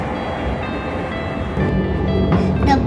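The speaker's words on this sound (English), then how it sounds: "From Kleine Scheidegg we rode the train." A Swiss mountain train running from Kleine Scheidegg down toward Grindelwald, a steady loud rumble of the railcar heard from on board, growing slightly louder partway through, with faint higher squeals near the end.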